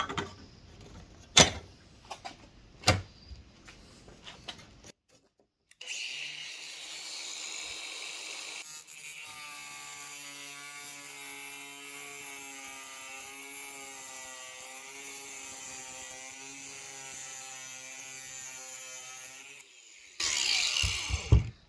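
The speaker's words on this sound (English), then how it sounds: "keeping that angle grinder disc in the channel all the way along, following our line" Angle grinder cutting along a groove in aluminium, a steady high-pitched whine with strong tonal harmonics running continuously for about fourteen seconds, preceded by sharp clanks and knocks and ending in a brief burst of harsh grinding noise.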